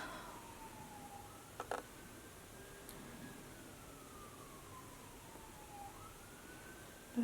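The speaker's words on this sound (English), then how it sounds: "That's a siren in the background" A faint, distant emergency siren wails in slow rising and falling sweeps through the whole stretch, alone under quiet background noise.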